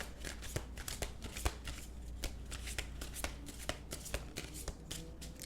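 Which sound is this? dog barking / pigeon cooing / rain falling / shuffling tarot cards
shuffling tarot cards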